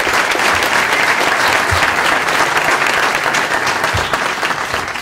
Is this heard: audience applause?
yes